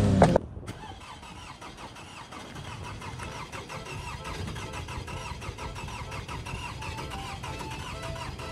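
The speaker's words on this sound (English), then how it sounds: "I'll just impose some, car noises over the video." A car engine cranks and catches with a loud burst, then settles into a steady, moderately loud idle that runs on evenly with no talk.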